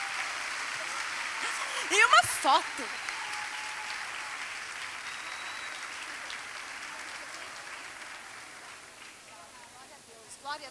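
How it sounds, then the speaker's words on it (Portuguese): An audience at a women's church gathering applauds the women being honoured. Soft, steady clapping is heard from a moderate distance under voices and fades gradually. "Uma salva de palmas para elas"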